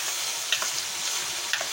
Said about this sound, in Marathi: तेल सुटेपर्यंत परतून घ्यायचं